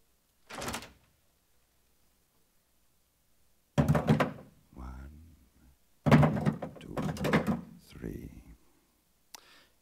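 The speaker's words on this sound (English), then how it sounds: "Kendall, we'll open the door" In a 1958 radio western drama, a door opens with a thunk and a creak between lines of dialogue, close and fairly loud, with voices talking around it.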